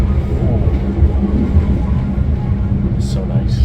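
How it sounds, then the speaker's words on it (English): Inside a passenger train in Indonesia, a steady loud rumble of wheels and carriage noise fills the space, with a faint high squeal near the end. "I'm really glad that I've got the opportunity to travel by train"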